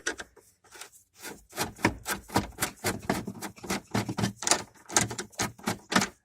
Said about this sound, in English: take a Phillips head and just unscrew that part right here